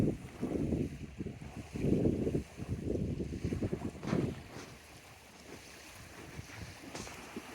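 A sailboat under way for about five miles toward Blakely Harbor off Bainbridge Island, moving slowly at around 1.5 knots: steady water wash and wind buffeting against the hull, louder in the first half, then a softer, even rush.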